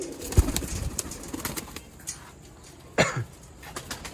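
Pigeons in a net enclosure give soft, low cooing and throaty grunting calls, close by and fairly faint, in scattered bursts against a quiet background.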